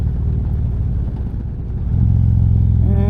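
A 2013 Harley-Davidson Road Glide motorcycle rumbles close by with a steady low exhaust note, swelling louder and heavier partway through as the engine pulls harder, no voices over it.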